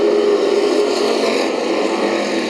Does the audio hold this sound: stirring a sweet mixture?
no